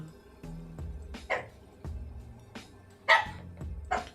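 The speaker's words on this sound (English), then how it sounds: "What are our thoughts on maybe not randomly barking at nothing?" A dog barking indoors during a Marvel Snap game session, several sharp barks spaced irregularly over a low background hum, moderately close and loud, with no speech.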